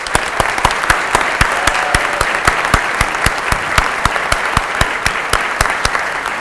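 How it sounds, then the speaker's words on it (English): Audience applauding the incoming physician assistant class of 2020 at a white coat ceremony, a full, sustained round of clapping with crisp individual claps standing out in the hall. "Please join me in giving them a hand of applause."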